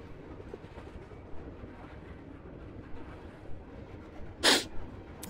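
Train in the Eden's Garden video game rolling through mountains, a low, steady rumble with faint clacking and a sudden sharp burst near the end.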